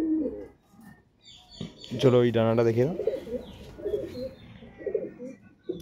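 Two female pigeons, kept as quality birds, give a near, clear cooing call lasting about a second in the middle, with softer bird sounds around it and someone talking before and after.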